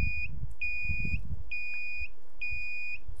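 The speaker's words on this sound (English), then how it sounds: "here comes the beep" A high electronic beep repeats four times in an even rhythm, each tone sustained briefly, over a low background rumble.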